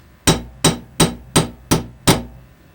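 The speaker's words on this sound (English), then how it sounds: "Light taps like that will make that scissor move." A light hammer gives six evenly spaced, crisp metallic taps to set a pair of scissor blades, each strike close and clear with a short ringing decay, with no one talking.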